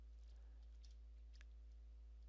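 Soft, sparse laptop keyboard clicks on an ASUS ROG Zephyrus M16 tapping at an uneven pace, faint and close, over a steady low electrical hum.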